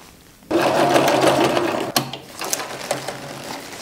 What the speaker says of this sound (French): Et je vais ensuite pouvoir faire ma couture ici à 1 cm du bord.